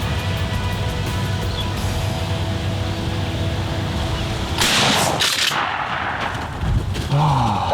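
A single loud gunshot cracks midway through a quiet outdoor scene during a New York turkey hunt, followed by a brief faint sound afterward.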